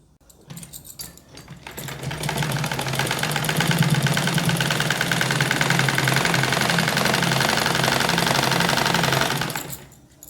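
A sewing machine stitches a palazzo pant seat seam, starting with a few hesitant bursts, then running in a fast, steady mechanical rattle close by for about eight seconds before stopping.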